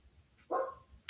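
A dog in the neighborhood barks once, a short mid-distance bark followed by a sharp yip, against a quiet background.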